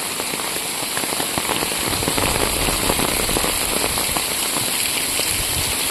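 Heavy rain pours down steadily in Vagaikulam, Tirunelveli district, a dense continuous hiss with spattering drops on nearby surfaces, close and constant without talk.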